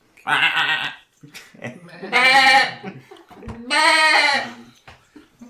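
A person imitates a goat bleating in three loud, wavering, nasal calls with short pauses between them, mixed with brief bits of voice and laughter.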